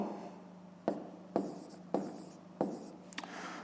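A pen writes a number by hand during a fifth-grade maths exercise: about five quiet, distinct scratchy strokes spaced roughly half a second apart, close and alone.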